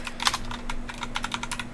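Rapid typing on a computer keyboard, close and fairly quiet, with quick irregular key clicks and no talking.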